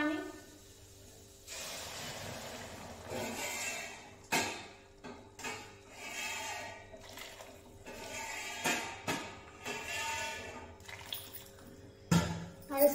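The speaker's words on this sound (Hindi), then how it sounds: "अब इसमें डालिए पानी।" Water is poured into a cooking pot of vegetables for soup, a soft splashing pour that comes and goes in short bursts with clinks of utensils, while someone talks over it.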